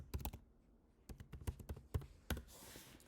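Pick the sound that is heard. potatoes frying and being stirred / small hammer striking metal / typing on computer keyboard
typing on computer keyboard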